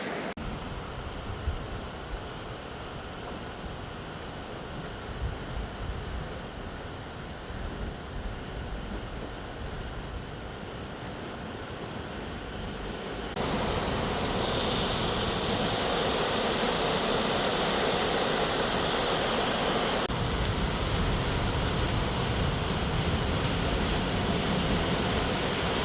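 A river rushes steadily through Yellowstone's Firehole Canyon, a broad, continuous roar of flowing water that swells louder partway through, heard from a bicycle ride along the bank.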